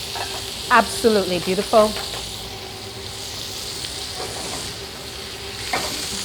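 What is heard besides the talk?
onion, scotch pepper, garlic and herbs caramelizing in a pan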